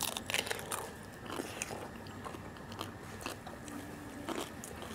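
Crispy Thai pork belly is bitten and chewed up close, giving repeated sharp crackling crunches over a steady soft background, with no talk.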